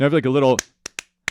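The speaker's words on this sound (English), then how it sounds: "clap track rhythm" The clap track from a song comes through as three sharp, isolated claps spaced unevenly. Someone speaks briefly just before them.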